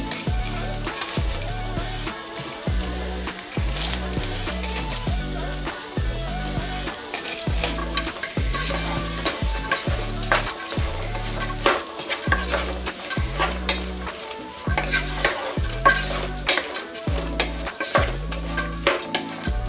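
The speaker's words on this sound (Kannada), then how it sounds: "ಈ ರೀತಿ ಮಿಕ್ಸ್ ಮಾಡಿಕೊಂಡು ಇದನ್ನು ಎಣ್ಣೆನಲ್ಲೇ ಫ್ರೈ ಮಾಡ್ಕೋಬೇಕು" Chopped cabbage stir-fries in oil in a pan, a continuous sizzle broken by rhythmic, repeated scraping and stirring strokes of a spatula against the pan, close and fairly loud, with no voices.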